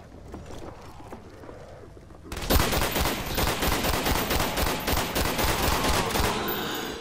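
A FAL rifle fires rapid, loud shots in the zombies mode of Call of Duty Black Ops, a dense run of cracks starting abruptly after a quieter stretch and continuing steadily to the end.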